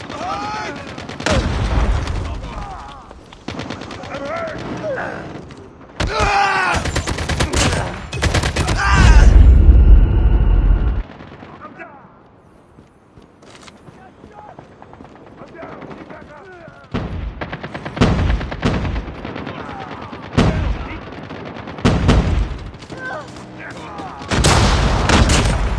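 Call of Duty multiplayer gunfire: repeated bursts of automatic weapon shots and loud blasts, close and intense, with game voice callouts and speech mixed in and a brief quieter lull midway.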